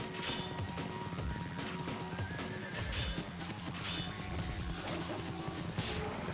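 In Ninja Gaiden Black, horses neigh and whinny amid clattering hooves and crashing combat hits, a busy layered game soundtrack at low volume.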